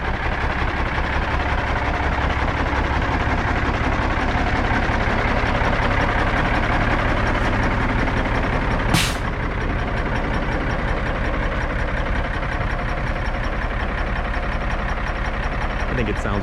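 A semi truck fitted with new skinny exhaust stacks idles with a steady, deep rumble that stays loud and constant throughout, while people talk over it.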